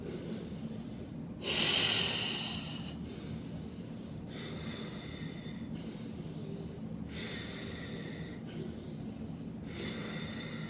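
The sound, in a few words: heat-building breathing exercise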